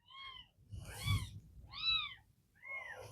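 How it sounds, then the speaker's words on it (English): Several kittens meow in turn from a hiding spot under a farmhouse deck, four or five thin, rising-and-falling cries with short pauses between them, fairly close and clear with no talk. "There's like kittens galore here."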